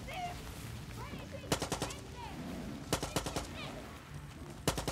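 Bursts of automatic gunfire from the video game Far Cry 6, two rapid volleys and a shorter final burst, loud over a busy game soundscape with music and ambient effects.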